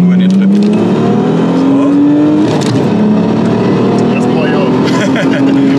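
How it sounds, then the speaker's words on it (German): An Audi S4 B5 saloon pulls hard at full throttle in second gear during tuning, its engine note rising loud and close, dipping briefly at a quick no-lift shift, then climbing again. "Ich reiße jetzt den zweiten Mal durch und schalte wirklich Vollgas einfach nur in den Trip."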